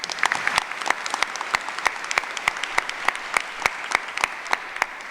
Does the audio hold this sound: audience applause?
yes